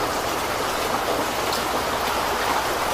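Dense, steady hiss of heavy typhoon rain pouring down during a storm, a continuous wash of drops with wind blended in and no voices.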